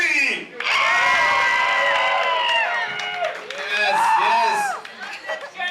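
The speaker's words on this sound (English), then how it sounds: "On the count of 3, I need you to cheer your asses off so we can get this next part of the show started." A live show audience in San Jose erupts in loud, sustained cheering and whooping from a packed crowd, swelling for several seconds before fading into scattered shouts.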